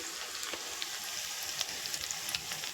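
Fresh curry leaves crackle and sizzle in hot oil for a tadka on dal, a dense steady frying hiss with small pops scattered throughout, close and fairly loud, no voices.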